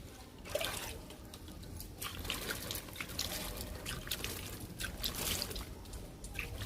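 Water is sprayed over indoor potted plants in quiet, repeated spritzing bursts, with faint dripping and trickling, close by and without talk.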